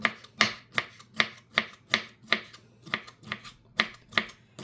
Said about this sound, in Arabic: عندي هون كمان عندي الكبيس المخلل، حفرمه كمان نفس الشي ناعمة لمكعبات